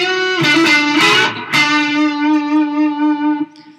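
A short phrase of a riff on a heavily distorted electric guitar, a few quick picked notes and bends settling into a long sustained note that rings out alone before cutting off.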